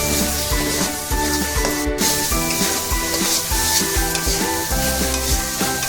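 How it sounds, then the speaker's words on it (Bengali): Meat masala and garam masala mixed into a pan with ghugni and fried, giving a continuous loud sizzle with constant stirring scrapes. Music plays underneath. "আমি সবকটা মশলা একবারে আমার মিশিয়ে নিচ্ছি"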